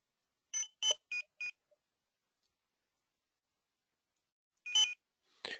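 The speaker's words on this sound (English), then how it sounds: "I can beep the beeper" A Zebra barcode scanner's beeper sounds a quick series of four short electronic beeps, pauses in near silence, then gives two more beeps, crisp and close in a quiet room.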